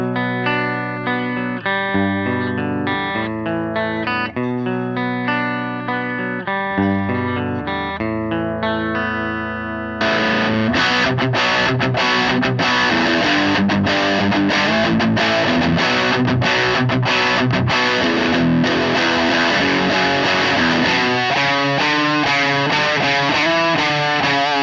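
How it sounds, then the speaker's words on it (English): Electric guitar played through an Orange Terror Stamp amp set clean into a Marshall Drive Master overdrive, starting with a clean picked melodic line, then switching to loud, crunchy distorted chords and riffs with sharp strummed attacks. "I've set the Terrastamp up as a clean platform, and I'm going to use the Marshall Drive Master for my drive tones."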